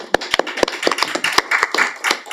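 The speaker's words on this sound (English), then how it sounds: "Let's give her a round of applause" A small group claps at a public hearing for a state representative, with sparse, uneven hand claps standing out sharply rather than merging into a full ovation, close and fairly loud.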